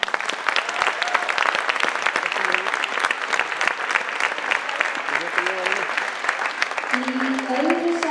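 Steady, dense audience applause fills a hall at an Icelandic team gymnastics championship, continuous and fairly loud throughout, with a few faint voices briefly audible through the clapping.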